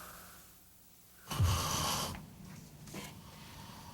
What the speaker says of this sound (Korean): 이 코 고는 소리는 단순한 소음을 넘어서 뇌졸중까지도 가져올 수 있다고 합니다